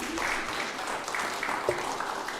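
Applause from a church congregation at a Korean Sunday worship service in Auckland, a steady wash of many hands clapping that stays fairly even, heard at a moderate distance.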